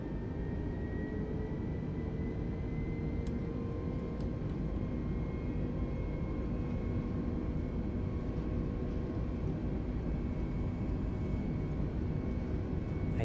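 Airbus A320neo engines spooling up for takeoff in Microsoft Flight Simulator 2020, a steady, dense roar with a faint high whine, even and unbroken, no voices.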